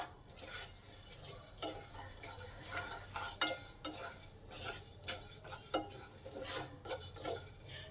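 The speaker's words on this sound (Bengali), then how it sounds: "আর জিরে একসঙ্গে দিয়ে দিয়েছি এইগুলো এখন ভালো করে ভেজে নেব" Spices and cumin sizzling in a pan on low heat for raw mango pickle while a utensil scrapes and stirs repeatedly, producing irregular clinks and scraping bursts over a steady fry.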